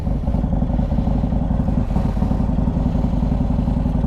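Motorcycle fitted with an S&S 124 engine cruising on the road, a loud, continuous low rumbling engine drone with steady clattering pulses and no talk.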